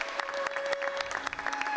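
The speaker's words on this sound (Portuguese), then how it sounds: "brota espontaneamente uma salva de palmas" Spontaneous applause from an assembly of religious leaders at a signing ceremony with the Pope, steady clapping throughout with a sustained tone running beneath it.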